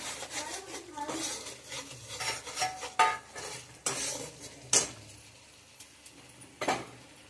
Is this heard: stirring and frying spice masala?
yes